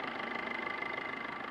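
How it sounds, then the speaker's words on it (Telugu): A Maruti Swift VDI diesel, 2018 or 2019 model, idles steadily with an even, low mechanical rumble and fine rhythmic clatter, close and constant with no voices. "చాలా సైలెంట్ ఉంది ఇంజన్ కూడా"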